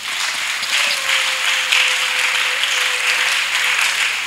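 A church congregation at a spiritual gathering bursts into sustained, dense applause, loud and steady throughout with many hands clapping together in a large room.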